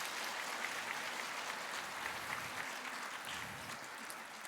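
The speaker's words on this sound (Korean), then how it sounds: "성가대를 위해서도 박수를 한번 해주실까요?" A church congregation gives the choir sustained applause at a revival service. The clapping is dense, steady and fairly soft, and it fades slightly toward the end.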